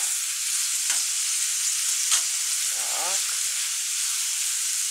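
Zucchini sauté sizzles in a pan with a steady bright hiss, broken by a few soft scraping stirs of a utensil, close and even throughout.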